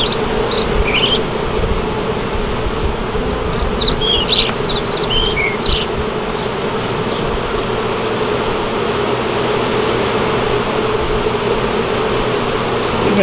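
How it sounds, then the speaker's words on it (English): Large swarm of bees inside a brick wall drones in a continuous, close, loud buzz that holds steady throughout, with a few faint high chirps breaking in now and then. "We got a good bit of bees."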